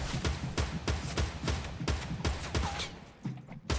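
Rapid gunshots in Fortnite, a steady run of evenly spaced close reports, about five per second, fading slightly near the end.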